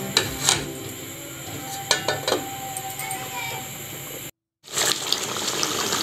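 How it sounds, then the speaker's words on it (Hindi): Water splashes and gushes in short bursts as two glasses are poured into a simmering pot of beef karahi, with clinks of cookware and a brief silent gap near the end. "2 गिलास मैंने इसमें और पानी डाला है।"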